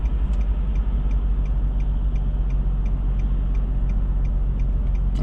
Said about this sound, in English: I will put a right hand signal on